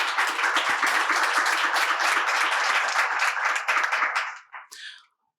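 Audience at an evening panel discussion applauding a presenter, dense steady clapping from many hands that thins and stops abruptly after about five seconds.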